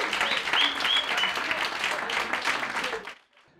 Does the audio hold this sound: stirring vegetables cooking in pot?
no